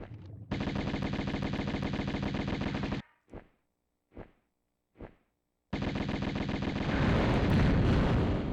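Uzi submachine guns fire in the Tomb Raider video game in two long, loud, rapid automatic bursts. Three short single bursts with silent gaps sit between them, and the final burst turns noisier and more crackling.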